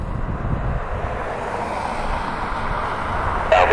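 A CRJ 900 regional airliner passes at Cleveland Hopkins airport, heard as a steady, broad jet roar that holds at moderate loudness throughout, with no talk.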